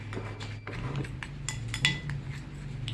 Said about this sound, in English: Want to stir in the baking soda